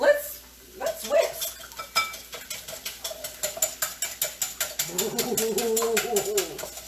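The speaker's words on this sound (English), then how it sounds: "So I just do the cinnamon in the egg mixture, okay? And a little bit of vanilla. All right, we're ready. Let's whisk." An egg mixture with cinnamon and vanilla is whisked briskly in a bowl, making a fast, steady run of rhythmic clinking strokes close by, with a voice briefly heard near the end.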